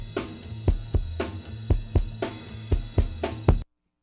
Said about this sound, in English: And here's the sound of both combined together, a much fuller and stronger sound.